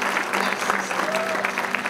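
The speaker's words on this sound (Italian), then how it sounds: "facciamo un applauso a Nicoletta" Audience applause for a singer at a live music event, a steady wash of clapping from a crowd with a faint tone passing under it.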